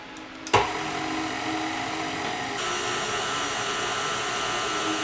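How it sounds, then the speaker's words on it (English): An electric mixer creams butter and sugar for a lemon pound cake, starting with a sharp clack and then running as a steady, even whir throughout. "We're going to go ahead and add the 2½ cups of sugar. We're going to go ahead and mix that."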